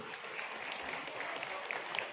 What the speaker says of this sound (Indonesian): Tepuk tangan untuk ibu-ibu semua